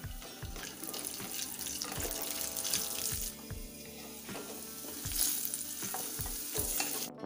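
Green peas, ginger and green chili frying in a pan while being stirred, with regular spoon knocks against the pan over a continuous sizzle, close and moderately loud.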